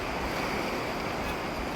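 Steady outdoor wind buffets the microphone at an exhibit of dinosaur and prehistoric sculptures in Mèze, a continuous broadband roar with a low rumble that never lets up.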